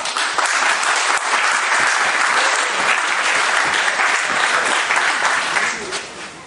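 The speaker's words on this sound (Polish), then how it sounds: "Gorące brawa!" Loud, warm applause from a crowd at a cornerstone-laying ceremony for the Olivia Business Centre, dense and sustained close by, tapering off near the end.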